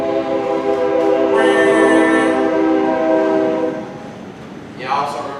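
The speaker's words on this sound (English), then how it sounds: "there goes one of our local trains" A local train passing, its horn sounding a long, loud, sustained blast over a steady rumble, then fading, with a brief second horn note near the end.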